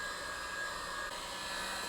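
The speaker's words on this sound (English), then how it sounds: "I feel heat. It's like a hairdryer." A heat gun blows hot air while warming vinyl boat seat backing material, a steady, even whoosh resembling a hairdryer, continuous and fairly close with no breaks.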